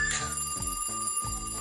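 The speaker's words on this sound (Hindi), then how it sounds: "अरे देखो तो ये दूध वाली का फोन आ रहा है" A phone rings with a short electronic ringing tone in repeated bursts, fairly quiet, with no voices.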